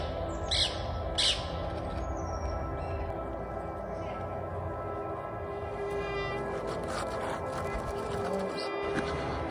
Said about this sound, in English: There's lots of parrots.